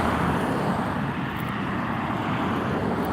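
A steady, loud roar of road traffic, with cars streaming past close by in an unbroken wash of engine and tire noise and no clear gaps between vehicles.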